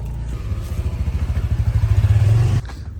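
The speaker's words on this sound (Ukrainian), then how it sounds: "Сюди заїжджають мопеди і проїжджають." Mopeds ride through a narrow street in Bali. A close engine drone builds steadily for about two seconds, then cuts off abruptly.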